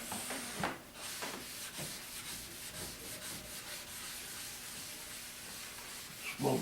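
A hand rubbing wax or finish into a lacquered wooden table top, soft repeated swishing strokes of cloth over wood in an irregular rhythm, quiet and close, with a louder bump at the end.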